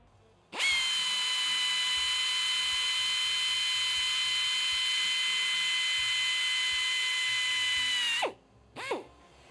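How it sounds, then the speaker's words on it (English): An electric drill bores into metal on a Harley-Davidson Sportster, one steady high whine lasting about eight seconds before stopping, followed by a brief spin-up burst; close and alone. "I'm still drilling in and it's not just stuck on there."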